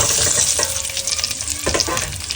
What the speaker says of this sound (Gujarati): આજે આપણે બટેટા જે ફોલેલા હતા એને આપણે ફ્રાય કરવાના છે